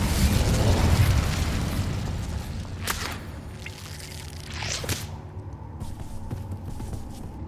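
An Incendio fire spell in Hogwarts Legacy bursts with a loud whooshing roar of flame that fades over a few seconds, followed by lighter crackles and pops, with no talk.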